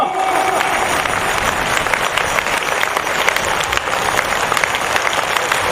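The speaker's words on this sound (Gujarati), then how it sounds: "આપણે તો શું કરવું, ખાઈને તાળી પાડવાની છે. પાડો ભાઈઓ." Audience clapping at a Gau Pushti Maha Yagna religious gathering, a dense, loud and continuous roar of many hands that carries on evenly throughout.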